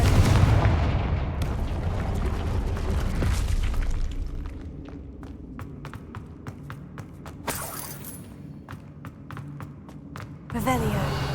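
A Confringo blasting spell goes off in Hogwarts Legacy, a heavy rumbling explosion that fades into scattered crackles and sharp debris clicks, with a second burst near the end and a voice talking over it.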